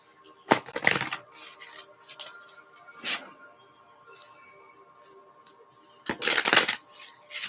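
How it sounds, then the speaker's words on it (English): A deck of oracle cards is shuffled by hand in a few quick papery bursts, close and crisp, separated by short quiet pauses. "let's shuffle it up a little bit"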